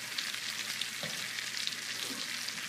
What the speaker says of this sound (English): We are searing them. We have them in hot oil and butter.